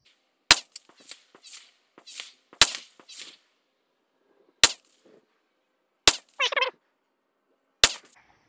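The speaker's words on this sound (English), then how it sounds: "we're going to shoot the right target this time, upper right" A Ruger LC Charger pistol in 5.7x28 fired at a 100-yard target, five sharp, loud gunshots spaced a second or two apart, each with a short ringing echo, over quiet stretches.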